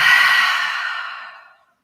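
A single long exhale pushed out through the mouth during a guided breathing exercise in a yoga flow. Breathy and fairly close, it starts strong and fades smoothly over about a second and a half into silence.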